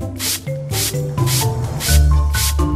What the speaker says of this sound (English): Let's run the spray bottle over the findings to wash them.